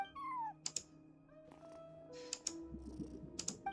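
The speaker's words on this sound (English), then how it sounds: "No one except for a cat watching over the front desk." A cat meows at the front desk in Genshin Impact, a short high meow at the start followed by several soft, quiet meows and purring sounds with a few faint clicks.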